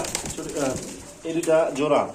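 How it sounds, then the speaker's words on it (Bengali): Soft cooing from a group of five pigeons for sale, heard close by and mixed with someone talking over it. "এখানে আছে পাঁচ পিস কবুতর"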